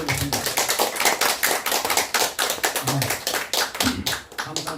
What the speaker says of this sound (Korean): 큰 박수로 우리 이전 교수님을 맞이하겠습니다